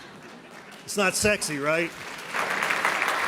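An audience at a Nevada State of the State address breaks into applause that swells after someone speaks, then continues as dense, moderate clapping.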